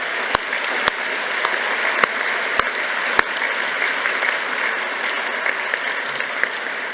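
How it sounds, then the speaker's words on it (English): Graduation ceremony audience at Glasgow Caledonian University applauding the staff; a broad, continuous wash of clapping from a large crowd in a hall, steady throughout, with a few sharper nearby claps standing out. "I'm sure you'd like to join me in giving them a round of applause"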